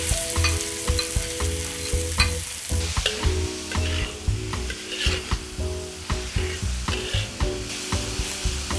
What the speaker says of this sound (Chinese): 锅中下油，爆香姜末， 下肉末，炒散到发白。